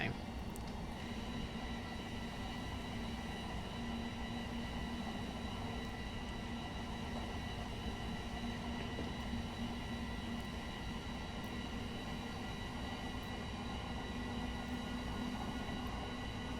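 A train runs in Train Simulator Classic, giving a continuous, even rumble of wheels and engine with faint clicks and no break throughout.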